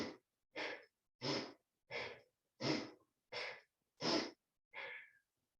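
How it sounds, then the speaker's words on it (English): Slow, deep breaths during a full-body yoga flow: eight even breath cycles, each a long airy rush about half a second long, close and moderately loud with short silent gaps between them. "It's just breathing."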